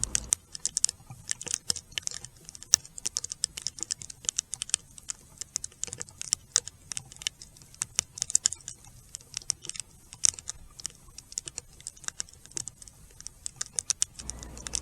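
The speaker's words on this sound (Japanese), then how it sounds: "それにしても強い雨です" Heavy rain drums on the roof of a car, a dense and irregular patter of close drops that keeps on steadily with no voices.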